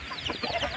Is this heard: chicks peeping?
yes